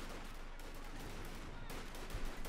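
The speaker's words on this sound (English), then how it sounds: "they got 10 riflemen firing at them" Riflemen fire in Company of Heroes 2, a dense, continuous crackle of small-arms gunfire that stays steady throughout with no clear breaks between shots.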